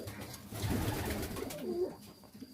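Pigeons coo at an evening feeding, a few low soft calls rising over quiet rustling and background noise, close and moderately clear, with no one talking.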